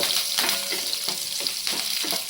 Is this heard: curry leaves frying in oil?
yes